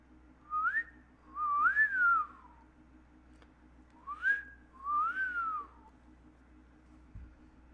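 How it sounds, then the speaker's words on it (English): Two pairs of rising-and-falling whistled notes, clear and fairly close, with a short pause between pairs over a low background hum. "actually whistling."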